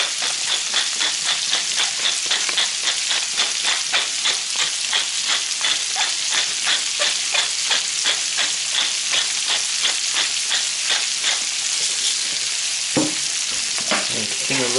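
Bacon frying and sizzling in a pan with salt and pepper, stirred in a steady run of regular scraping strokes under a constant dense hiss, with a couple of sharper knocks near the end.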